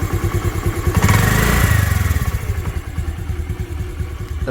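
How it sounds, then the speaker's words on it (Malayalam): A motorcycle engine cranks with a few thumps, catches, and settles into a steady, loud, close idle with a rapid chugging rhythm. "ഇന്ന് സ്റ്റാർട്ടാക്കി കാണിച്ചു തരാം വേണ്ട സൗണ്ട് വേണമെങ്കിൽ ശ്രദ്ധിച്ചോ"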